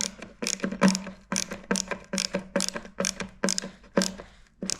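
Screw being tightened into an Ikea Billy bookcase bracket, giving a steady series of about ten crisp, close ratcheting clicks at an even rhythm with no talk over them.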